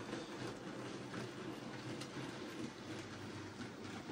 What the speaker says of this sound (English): There she comes with the evening coal train